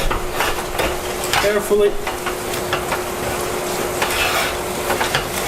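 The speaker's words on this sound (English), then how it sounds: "And about a 1/4 cup of cheese. Whisk that in." Cream and about a quarter cup of cheese being whisked together in a pan, a steady scraping, stirring swish close by with faint sizzle and a few utensil clinks, while a voice speaks briefly.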